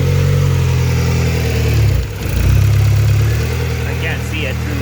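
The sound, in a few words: rebuilt SOHC turbo Honda Civic engine running cold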